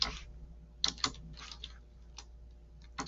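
Several crisp keystrokes on a computer keyboard tap out a short phrase in an irregular rhythm, close and fairly quiet against a faint steady hum, with no one speaking.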